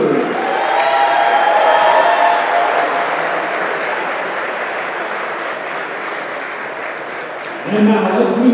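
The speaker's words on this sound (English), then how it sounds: "let's have one last round of applause for all of our dance team members" A gym crowd at a high school senior night applauds and cheers for the dance team, a sustained wash of clapping that slowly fades, before a voice comes back in at the end.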